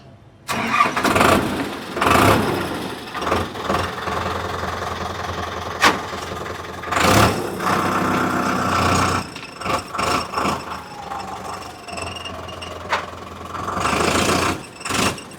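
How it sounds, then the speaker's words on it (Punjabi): A Sonalika 750 tractor engine cranks and fires in several loud bursts, then chugs and revs unevenly between pauses, close by, with no talking. "ਆਵਾਜ਼ ਚੈੱਕ ਕਰਿਓ ਟਰੈਕਟਰ ਦੀ ਕੀ ਕਹਿੰਦੀ ਆ"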